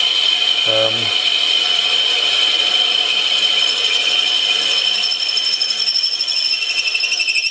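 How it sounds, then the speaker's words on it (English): A steady high-pitched whine of a drill bit boring into a Corian blank on a lathe, continuous throughout with a brief low rumble near the start. "drilling into corian generates heat"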